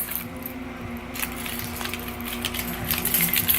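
Keys jingling inside a purse, a light metallic rattle and clink that rises and falls in soft bursts, close and fairly quiet, with no talk over it.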